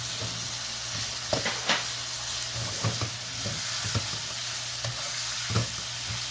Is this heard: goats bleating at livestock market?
no